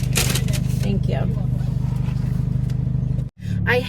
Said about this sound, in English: if you hear the car is loud